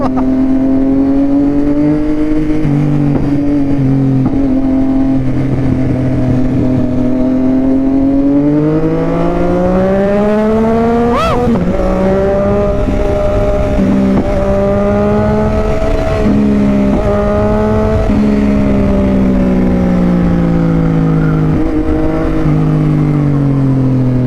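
A Yamaha XSR-900 motorcycle fitted with a drift exhaust, close and loud, engine droning steadily then rising and falling through several revs and shifts over a long continuous run, with no speech.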